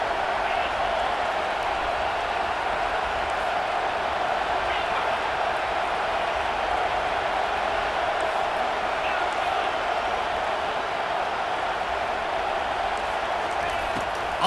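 A packed college football stadium crowd at a Florida versus Texas A&M game keeps up a sustained, loud roar to rattle the opposing offense, a thick unbroken wash of noise that never lets up.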